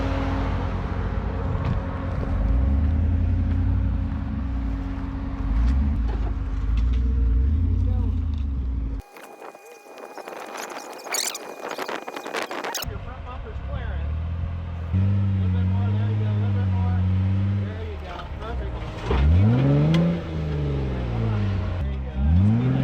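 Land Rover engine revving and whining off-road in a national forest, loud and continuous with rising and falling pitch sweeps, broken by a short harsh scraping burst, while people talk over it.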